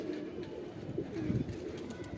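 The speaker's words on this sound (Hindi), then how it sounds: "ये देखिए, मैं इस तरह का कबूतर रखता हूँ अपने पास" A fancier's pigeon in Saharanpur gives a low, rolling coo, near and gentle, rising briefly midway over a quiet hum of surroundings.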